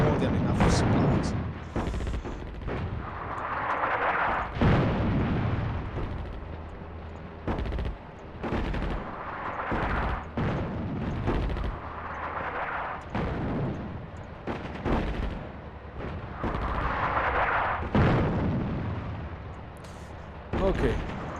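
Artillery fire in the WWII strategy game Attack at Dawn: North Africa at El Alamein, repeated muffled booming shots and rumbles at moderate level, spaced irregularly, under someone talking throughout.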